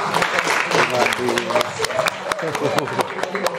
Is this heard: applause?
yes